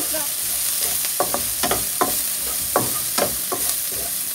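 Onions sautéing with a pinch of salt in a pan sizzle steadily, while a spatula scrapes and clacks against the pan in irregular strokes. The sizzle stays close and moderately loud, with no voices.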